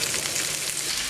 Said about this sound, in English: And as the sausage meat is frying, we just want to squish it down with a fork.